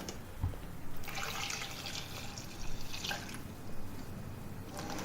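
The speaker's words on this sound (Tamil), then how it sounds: "இது குக்கரில் தண்ணி ஊற்றி வேக வச்சுக்கலாம்" Water runs and splashes into a metal pressure cooker in bursts, with trickling and drips between pours, close by and moderately loud.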